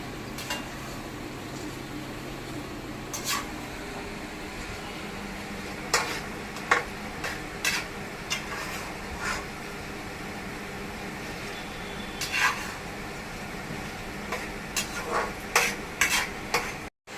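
Dal roasting in a pan for crisp thin-poha chivda, a steady low sizzle under scattered sharp clinks and scrapes of a spatula stirring against the pan, with no talking.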